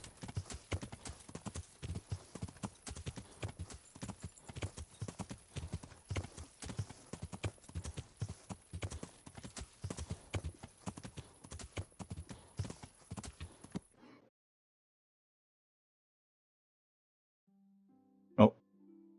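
Horse hooves clip-clop in a steady walking rhythm in Kingdom Come: Deliverance, fairly close and continuous for about fourteen seconds before stopping, then a single sharp knock sounds after a pause of silence.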